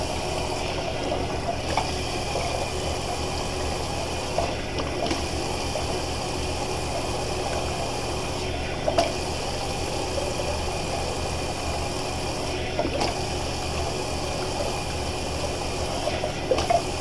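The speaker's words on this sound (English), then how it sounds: "gonna do a quick little cold water rinse" Cold water runs from a tap in a steady, even stream for a rinse during wet shaving, close by, with a faint background hum and no talking.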